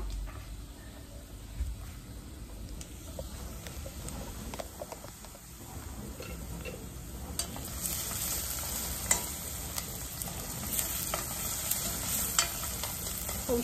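Vegetables, including carrots going into a pan with greens, fry and sizzle while being stirred at home, a steady crackle with scraping stir strokes throughout, louder in the second half, with no talking.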